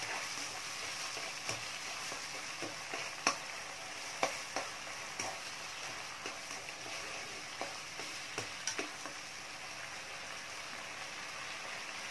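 Water mixed with cornstarch poured into a hot pan while cooking seasoned tofu, giving a steady, continuous sizzle with scattered faint ticks and pops throughout.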